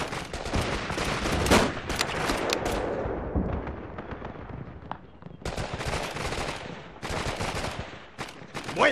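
Rapid bursts of rifle and machine-gun fire in the World War II shooter Call of Duty: The Big Red One, outside Gela, loud and dense with short pauses between volleys and no talk over them.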